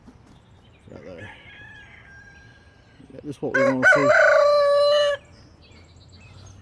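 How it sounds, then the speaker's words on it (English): A rooster crows loudly and close by in a farm orchard in early spring, one long crow following a brief voice and softer bird calls. "Roosters are letting us know they're up and awake"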